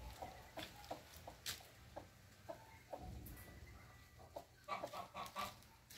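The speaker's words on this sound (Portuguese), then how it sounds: "Essa galinha adotou ele, pronto." Hen clucking in a farmyard while tending a young animal she adopted, a series of short, soft clucks repeated irregularly, with a brief louder burst near the end, no voices over it.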